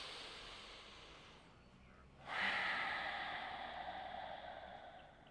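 A single deep, audible breath during a vinyasa yoga flow: a soft, airy inhale that turns into a longer, fuller exhale, faint and close against quiet room tone.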